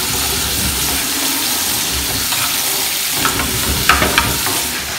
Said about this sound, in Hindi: फ्राई कर लेंगे इसको थोड़ा सा बस चिकन को, तब तक जब तक चिकन थोड़ा सा सॉफ्ट ना हो जाए